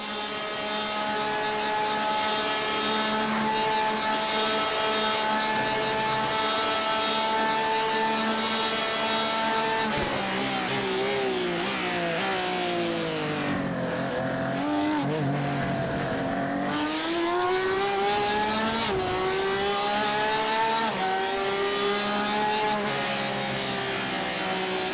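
Onboard engine of a Porsche race car in an esports Supercup racing video game round at Spa, loud and continuous, revving high with gear changes and dips through corners before climbing again, no talking.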